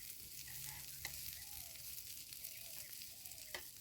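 Kenda fish fries in a pan with a steady, close sizzling hiss, broken by a few light clinks and scrapes as the pieces are stirred and turned; no one speaks.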